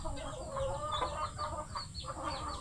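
Pet chickens cluck softly and steadily while feeding, a faint busy chatter of overlapping calls from a small flock nearby.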